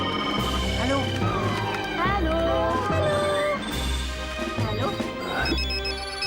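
A telephone rings in a cinema with a loud, repeating electronic ringtone that rises and falls in a warbling, siren-like pattern, while people talk over it.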